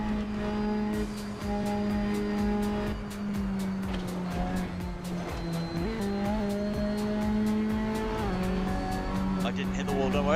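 A touring car racing around the Isle of Man in a video game, its engine whining and rising through repeated gear changes with brief tire squeals, heard under continuous talk.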